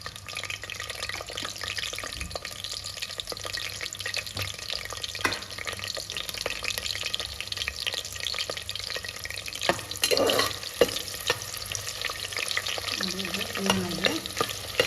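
Chopped onion frying in hot ghee in a pan for a chicken biryani, giving a soft continuous sizzle with occasional stirring scrapes and clinks. Heard alone at low level.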